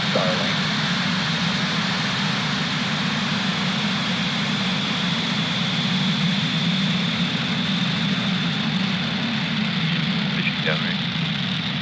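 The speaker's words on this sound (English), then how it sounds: "And liftoff of SpaceX Falcon 9." SpaceX Falcon 9 rocket engines roaring after liftoff on a Starlink launch from Florida, a steady broadband rumble that holds throughout, distant-sounding, with a launch commentator talking over it.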